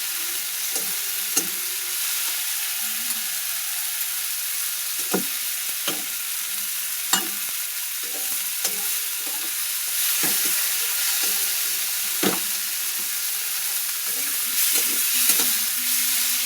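Jute leaves fry in rohu fish oil with a soft, steady sizzle. Scattered scraping and clicking stirring strokes sound throughout, and no one speaks.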